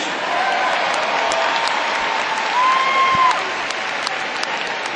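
A dog show crowd claps and yells as the toy group enters the ring, with a steady wash of applause, a brief whistle-like tone and scattered shouts over it.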